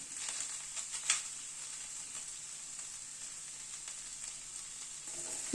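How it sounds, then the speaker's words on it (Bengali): Potato and banana flower curry with ghee being stirred in a pan gives a soft, even frying hiss, with a single clink early on and faint stirring scrapes underneath. "ঘিটাকে মিশিয়ে দিলাম।"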